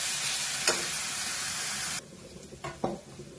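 Onion, green chili, ginger and garlic paste sizzle steadily in a pan while being stirred for palak kofta, the frying hiss cutting out partway, followed by a few scraping spoon knocks.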